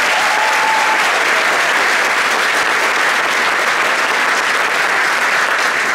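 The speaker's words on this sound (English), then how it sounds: "Can we get a round of applause for some of these seniors?" Sustained, loud applause from a school concert audience honoring seniors, a dense wash of clapping hands that holds steady without letup.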